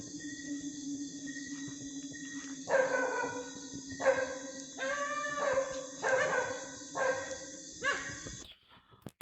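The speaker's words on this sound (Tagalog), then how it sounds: "Ang creepy, malulong yung aso." A dog in Indonesia howls in a run of about six drawn-out, wavering cries over a steady high-pitched background drone. The howls are fairly close and clear, and no one speaks.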